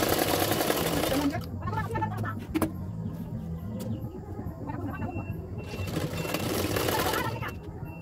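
An electric sewing machine stitches a blouse sleeve in quick bursts, running loudly at first, pausing, then starting up again, with someone speaking intermittently over and between the runs.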